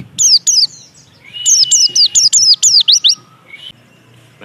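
Pleci (white-eye) cage bird sings a series of loud, clear chirping phrases, two quick bursts followed by a rapid run of about eight repeated trilling notes, close by with no voices.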